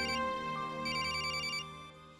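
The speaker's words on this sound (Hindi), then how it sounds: "गुंजन का फोन" A mobile phone plays a melodic electronic ringtone indoors, a bright repeating tune heard alone, loud and close, fading slightly near the end.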